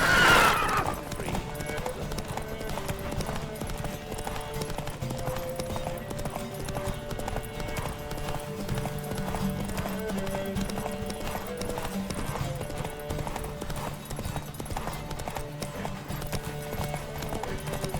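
Rapid, rhythmic hoofbeats of a galloping horse in The Witcher video game continue steadily throughout, layered over music, with a brief whinny at the start.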